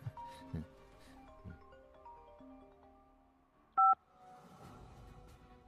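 A telephone call is dialed: a series of short keypad tones, then a louder double tone, in a quiet room with faint background music and sounds.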